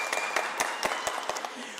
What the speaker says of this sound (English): give that big round of applause